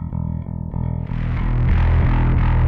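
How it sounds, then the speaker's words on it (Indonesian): Bass guitar played through a Joyo Monomyth preamp, starting with clean held notes before the distortion blend comes in and thickens into a loud, gritty, sustained overdriven tone with steady plucked notes. "Nah, ini sudah terdengar distorsinya ya di jam 12"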